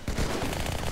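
Rapid gunfire in the video game Halo 2, a dense, loud burst of overlapping shots that fills the whole short moment with no voices.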